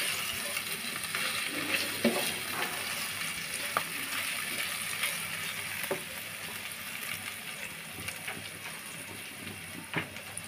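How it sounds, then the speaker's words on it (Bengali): Ginger-garlic paste and green chillies fry in a pan for a Malabar spinach and mung dal dish, giving a soft, continuous sizzle with occasional light clicks and spatula taps, fairly quiet and without speech. "কাঁচা লঙ্কা, দিয়ে মশলাটা আমি একটু ভালোভাবে কষিয়ে নিব"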